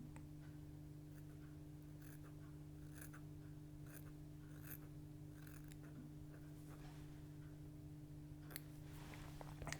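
Small scissors snip a feather rachis for tying a mayfly pattern, several faint, brief crisp clicks spaced irregularly over a quiet, humming room.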